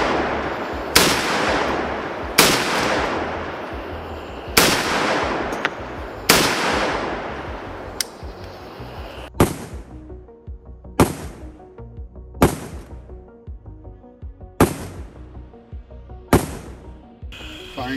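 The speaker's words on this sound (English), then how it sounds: "AK-50 test fire round number 78." An AK-50 rifle is test fired at night, with a series of sharp, loud shots roughly every one to two seconds. The early reports trail off in long echoing tails, and later ones are crisper and shorter, with no voices.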